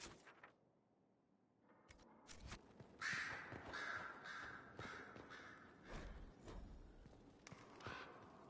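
Crows in a fantasy video game caw several times over a few seconds, mid-distance and moderately loud, against a soft ambient bed with occasional thuds like hooves or footsteps.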